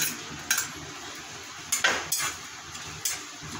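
Grated coconut being dry roasted in a hot pan without ghee or oil, heard as a few sharp clinks and scrapes of a spoon against the pan at irregular intervals over quiet background.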